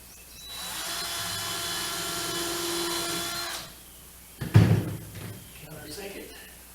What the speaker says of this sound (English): Little pilot hole.